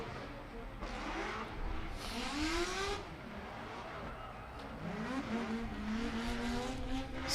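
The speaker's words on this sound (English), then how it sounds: "We do have a Corvette battle." Corvettes battling in a drift competition at Orange Show Speedway, engines revving hard and rising in pitch with tire squeal and skidding, heard at a distance under announcer commentary.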